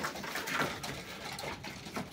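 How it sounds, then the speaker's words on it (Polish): Racing pigeons in a loft give soft, close cooing with light wing patter and shuffling, faint and steady throughout. "No tak to te gołębie wyglądają."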